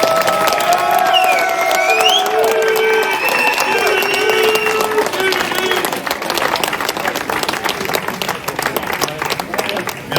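A crowd at the podium ceremony of a national hill climb race in Turckheim claps and cheers, a loud, continuous wash of applause. A voice talks over the first half, joined by whistles and shouts.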